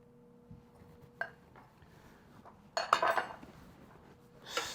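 A utensil scrapes and clatters in a pot while Dungeness crab is stirred through a ginger scallion sauce, sparse knocks building to a short burst of metallic clinking.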